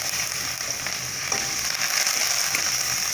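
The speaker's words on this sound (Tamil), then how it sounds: "கட் பண்ணி வச்சுருக்க வெங்காயம்," Chopped onions and curry leaves frying in hot oil for a Tamil kulambu, giving a close, continuous sizzle with faint stirring noises, and no one speaking.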